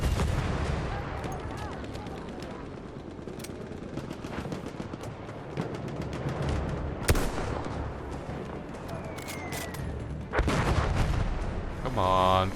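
Battlefield 1 video game combat with dense, continuous gunfire and bursts of heavy fire from a tank, a loud blast near seven seconds and a heavier burst toward the end over a busy battlefield din.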